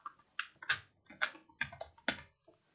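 Keys on a computer keyboard are typed in a short burst of about eight crisp, close clicks at an uneven pace while a JavaScript hello world line is entered, with no speech.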